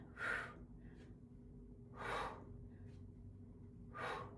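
During tricep kickbacks a person breathes out three times, each a strong, close exhale about two seconds apart. Faint, softer breaths come between them over a low background hum.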